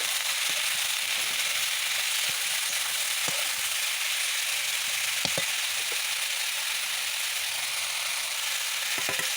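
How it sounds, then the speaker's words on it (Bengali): Winter vegetables with garlic and salt sizzle steadily in a hot pan, a continuous close frying hiss broken by sporadic spatula scrapes and taps as they are stirred; no talking. "চলো বন্ধুরা, এখন একটু নাড়িয়ে নাড়িয়ে কষিয়ে নেব।"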